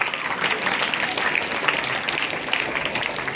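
Loud, sustained applause from an audience at an Urdu high school student committee event in Bhusawal, dense clapping filling the room steadily without a break.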